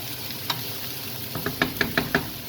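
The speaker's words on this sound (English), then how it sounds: "then we'll get some garlic in there in a minute. We'll just stir that around." Garlic frying in a pan under a soft sizzle, with a handful of light metallic taps and scrapes from stirring near the end, close and unaccompanied by talk.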